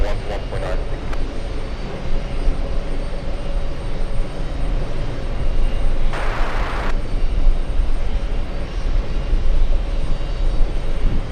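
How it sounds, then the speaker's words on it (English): A big American Airlines Boeing 777 roars on the runway at JFK, a loud, steady jet rumble that swells and persists, with radio chatter and voices under it. "We have the big American 777 on the runway, American 44 to Paris."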